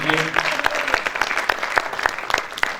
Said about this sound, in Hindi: एक बार जोरदार तालियां दिव्या गौतम जी के लिए आप लोग बजा दीजिए